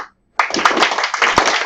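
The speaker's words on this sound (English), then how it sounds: "I do cool rhythms because just 3 claps is lame" Hand claps in a seventh-grade classroom, a quick syncopated run of sharp slaps after a brief pause, close and loud with room echo.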